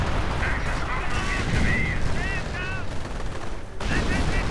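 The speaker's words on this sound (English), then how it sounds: "Artillery flying. Stugs moving in." Artillery fire and advancing StuG assault guns in a WWII strategy video game: a dense, continuous rumble of distant gunfire and explosions, with whistling shell tones rising and falling over the din.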